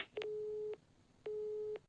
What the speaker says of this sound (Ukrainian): Номер абонента, якому ви телефонуєте, зайнятий або абонент відхилив ваш виклик.